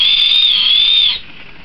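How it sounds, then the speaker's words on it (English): JetScream signal whistle blown gently, giving a single shrill, piercing tone about a second long that wavers slightly and then cuts off into faint room noise; close and loud, no voices. "Moving on to the JetScream signal whistle."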